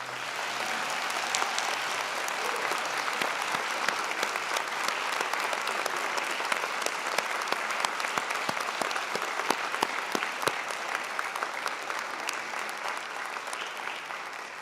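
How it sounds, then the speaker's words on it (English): Graduating students and their audience applaud at a fall university convocation ceremony, producing sustained loud dense clapping that holds steady throughout with no speech over it. "Graduates, a round of applause, please."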